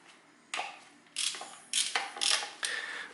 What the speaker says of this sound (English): I need to only take this 10mm socket and wrench, and then I can open these bolts